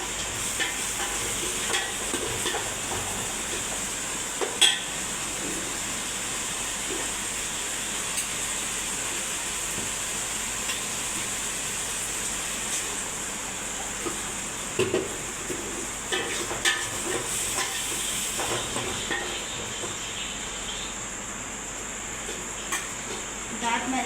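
Garlic and ginger frying in a pan while being stirred: a steady sizzle that runs throughout, with occasional clinks of a utensil against the pan. A voice speaks intermittently.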